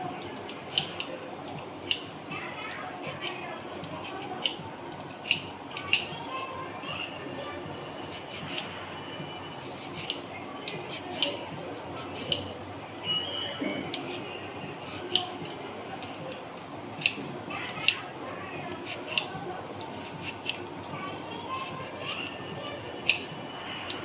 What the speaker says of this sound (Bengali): এই দেখো, আলুটা কাটছি।